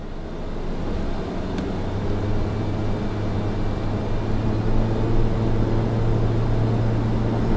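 A Pilatus PC-12 turboprop in Microsoft Flight Simulator 2020 spools up for takeoff, a steady droning engine tone rising and thickening with a sustained low hum, fairly loud with no speech.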